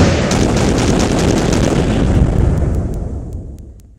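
Tank cannon fire in a tank simulator game, shots coming without reload pauses: a loud, continuous broadband roar of blasts and booms that fades away over the last second.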